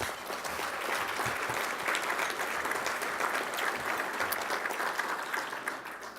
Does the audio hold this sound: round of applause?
yes